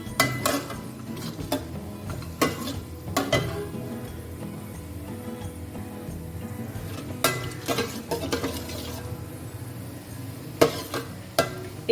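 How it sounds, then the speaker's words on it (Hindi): Whole garam masala spices in hot oil for bhuna gosht, with faint crackling sizzle and repeated sharp clinks and scrapes of stirring against the pot, no voices. "तेल को अच्छी तरीके से हमने गरम किया है। तेल के अंदर हम गरम मसालों का एक फ्लेवर देंगे।"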